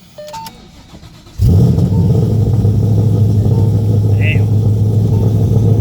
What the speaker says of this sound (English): taking some video of the car and see how it sounds at idle